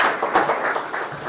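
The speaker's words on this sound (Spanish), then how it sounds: "Un aplauso para los ingenieros, ¿no es cierto?" A brief burst of audience clapping for engineers at a leadership lecture, moderately loud and fading slightly within about a second.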